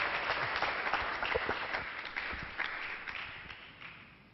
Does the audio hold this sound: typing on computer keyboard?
no